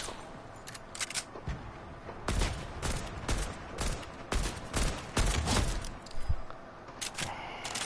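Fortnite gunfire comes in scattered sharp cracks and short bursts, some single and some clustered, at moderate level, with a brief quiet stretch and no clear talk.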